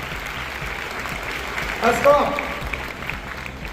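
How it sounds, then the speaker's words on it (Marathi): Applause from an audience at a general-knowledge competition event, moderate crowd clapping running steadily beneath a man's speech, with a short louder swell partway through. "एकदा जोरदार टाळ्या वाजवा ऑन द वे फाउंडेशन साठी"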